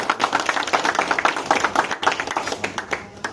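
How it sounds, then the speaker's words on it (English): A group of hospitality and dietetics students at a food presentation clap for themselves, a dense burst of quick, close, steady hand claps lasting a few seconds. "So clap for yourself."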